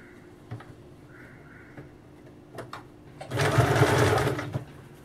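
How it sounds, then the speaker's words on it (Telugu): A sewing machine runs a double line of stitching beside piping on a blouse, a short loud burst of whirring near the end after quiet moments with a few faint clicks. "దీనికి కూడా పైపింగ్ తిప్పేసి పక్కన డబుల్ స్టిచ్ వేద్దాం."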